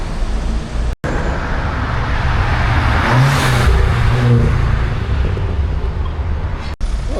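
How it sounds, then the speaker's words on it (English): Toyota GR Yaris driving past on a city street in Andorra, a steady close engine and tyre roar that swells and fades over continuous traffic noise. "And there's the GR Yaris"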